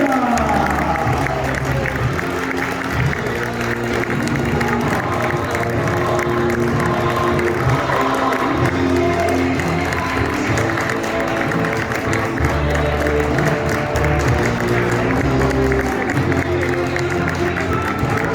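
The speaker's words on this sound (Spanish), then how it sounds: "recibir un año más con una fuerte ovación al campeón del campeonato 2021, Miguel Beca" A crowd at a karting championship gives an ovation for the 2021 champion, a dense, loud, continuous wash of clapping and cheering with music and voices mixed in throughout.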